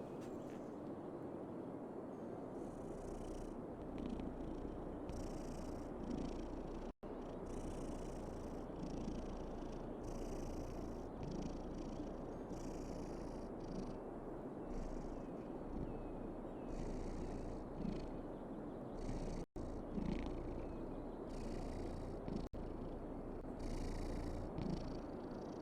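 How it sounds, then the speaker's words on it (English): A white cat purring continuously and close, a soft steady rumbling purr over a long stretch with faint background hum and no talk. "We have a purring White Cat"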